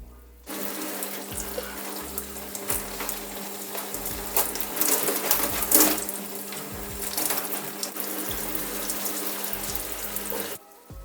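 Shower water runs steadily in a home bathroom, a continuous close hiss that starts abruptly and cuts off near the end, with no talking.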